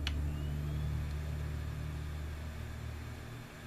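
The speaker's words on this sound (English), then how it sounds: "Fans have kicked in." Computer fans in a budget AMD FX-6300 desktop with a Zotac GT630 spin up on reboot, a steady low hum and whir that holds level and eases slightly toward the end, after a brief click at the start.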